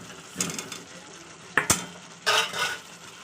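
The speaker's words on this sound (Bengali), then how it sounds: "ভেজে রাখা আলু আর ডিমটা একসঙ্গে দিয়ে দিচ্ছি" Fried potatoes and eggs go into a pan of spiced tomato sauce and get stirred, with a low simmering sizzle and a few sharp utensil knocks and scrapes against the pan.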